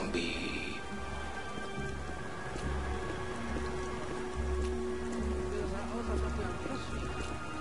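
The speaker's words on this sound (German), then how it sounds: "Ganz verdammter Regen." Continuous rain pours down in the game Beyond Two Souls, a dense steady hiss of falling water with a low rumbling undertone and faint tonal hum, going on without pause throughout.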